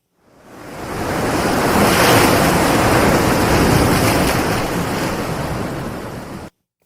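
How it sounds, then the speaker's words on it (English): A single large ocean wave rolls in and crashes, its broad roar swelling and then slowly fading as the surf washes up, with no voices. "That was just kind of one big wave"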